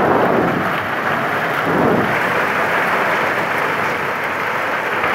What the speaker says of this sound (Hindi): ये देखें कितनी ज़बरदस्त तेज़ बारिश लगी हुई है।